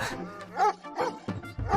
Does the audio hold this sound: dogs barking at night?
yes